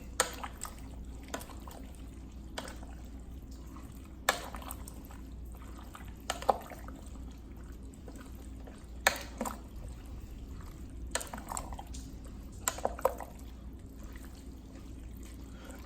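Canned beef broth pours into an Instant Pot for chili, a quiet trickling and splashing stream running steadily in the background, broken by a few soft clinks and knocks.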